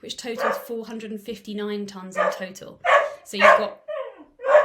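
A dog barks outside, faint and partly masked, underneath a person speaking steadily and close up throughout.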